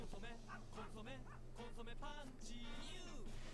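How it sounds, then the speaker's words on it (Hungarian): A dog yips and barks a few times within a TV advert, mixed with music, sound effects and voices. "ott egy igazi kutya végre"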